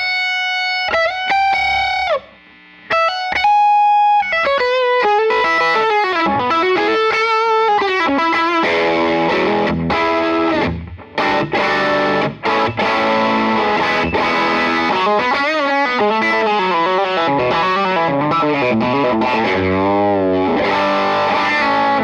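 An electric guitar plays sustained notes and bends with distortion and chorus, and overtones ring out prominently; a lower octave part follows, loud and continuous with no talking.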